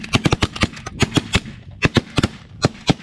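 Rapid volleys of shotgun blasts during a snow goose hunt, a dozen or more sharp, loud reports in quick irregular bursts from several guns firing close by.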